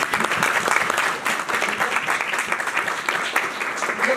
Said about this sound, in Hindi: रवि के लिए तालियां बजाएं